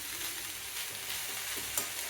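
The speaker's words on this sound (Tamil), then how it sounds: "ஒரு ஃப்ரை பண்ணிவிட்டு லேசாக மிக்ஸ் பண்ணிவிட்டு இறக்குனிங்கன்னா ஒரு அற்புதமான வெண்டைக்காய் பொரியல் சூப்பராக இருக்கும்" Okra stir-fry sizzles steadily in a pan while being mixed, a continuous hiss broken by soft scraping stirs and one sharper clink near the end, with no talking.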